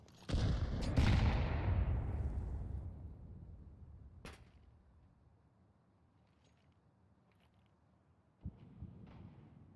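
Gunfire and a heavy blast in a Counter-Strike match on Vertigo during a pistol round, opening with loud booming shots that fade into a long decaying rumble, then a few sharp isolated cracks, one more shot arriving near the end.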